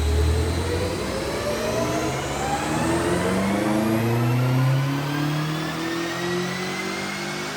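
A BMW F90 M5 LCI engine revs hard on a dyno, a loud continuous roar climbing steadily in pitch through the run with no pauses.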